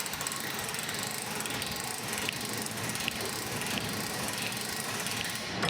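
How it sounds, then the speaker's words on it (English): A crank handle turns the butterfly key roof lift system on a Coleman camper, producing a continuous close ratcheting of rapid, even mechanical clicks throughout. "So crank handle goes over the drive shaft. This goes into the open position."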